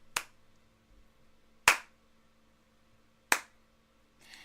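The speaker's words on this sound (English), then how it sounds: "Another slow clap." Three loud, sharp hand claps spaced slowly about one and a half seconds apart, in a quiet room, with a faint fourth clap starting at the end.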